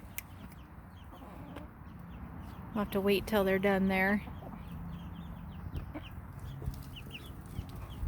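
Chickens cluck nearby in a short burst of calls as they are let out onto pasture, with a person speaking quietly around them against soft outdoor background noise.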